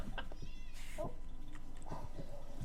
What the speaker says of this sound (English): A giant cat.